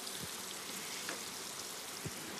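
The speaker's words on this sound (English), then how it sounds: "The pan's hot enough, it's sizzling, but it's not smoking." Fish frying in a hot pan in a Sri Lankan kitchen in Galle, a soft continuous crackling sizzle, fairly quiet and steady with a few small pops.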